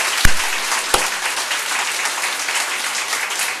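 A church congregation at a Sunday service claps together in dense, sustained applause, with a couple of sharp, close thumps near the start.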